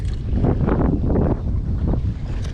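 Wind gusts buffet a small fishing boat drifting in a Gold Coast canal, a steady loud rush with wavering surges and lulls, close and alone with no talk.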